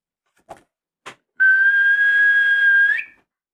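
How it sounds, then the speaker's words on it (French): Two soft clicks, then a single long, steady high train whistle held for over a second, bending slightly upward just before it cuts off. "Le sifflet du train retentit."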